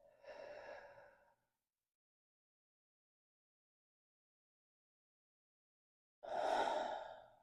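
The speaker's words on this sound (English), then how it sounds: "One more breath." Two deep breaths during a yoga session, a long exhale at the start and a fuller, louder inhale-exhale near the end, separated by several seconds of silence, close and clear.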